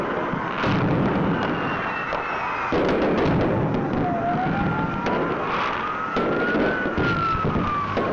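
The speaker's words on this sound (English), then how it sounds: "This is New Year's fireworks and stuff." Steady crackle and pops of New Year's fireworks fill the scene, with a siren wailing and rising and falling underneath and no talk.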